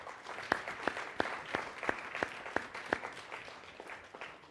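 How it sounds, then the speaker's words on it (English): An audience at a Harvard Undergraduate Council debate gives a round of applause: a fairly distant wash of clapping with sharper individual claps standing out, steady for several seconds. "How about one more round of applause?"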